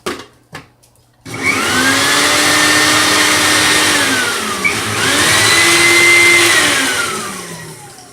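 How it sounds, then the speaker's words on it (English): Kitchen blender whirring through stinging nettle pesto with garlic, olive oil, sea salt and seeds, starting after a couple of knocks, its motor pitch climbing and dipping twice over several loud, close seconds. "and I'm going to blend it."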